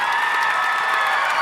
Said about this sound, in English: please give a congratulating applause